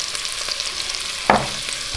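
Butter melting and frying in a pan for butter chicken, a steady soft sizzle with a sharp stirring scrape near the middle and another at the end.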